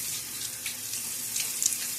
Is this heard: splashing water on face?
yes